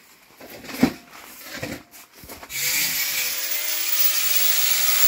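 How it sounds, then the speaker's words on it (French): Metal bar ends are cut off on a campervan extension built from salvaged parts. A few knocks and handling noises come first, then a loud, steady, whining cut holds close by for the rest of the clip. "Et David il est en train de couper les bouts qui sont en fait un peu trop longs par rapport à la caisse"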